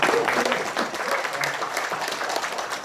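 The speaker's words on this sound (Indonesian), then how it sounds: "Aplaus dulu dong buat Anda semuanya." An audience at a training seminar breaks into applause, a dense patter of clapping hands that fills the whole moment at steady loudness, with some voices mixed in.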